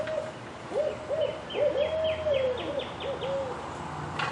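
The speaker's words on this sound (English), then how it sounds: "That's an owl." An owl hoots repeatedly outdoors, giving a series of short, clear calls over steady background insect and night noise. No one speaks.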